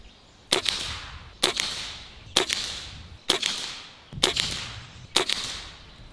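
Six sharp airgun shots from a Barra 1100z Gen II, fired at an even pace about a second apart while sighting in at 25 to 30 yards, each a loud crisp crack with a short tail.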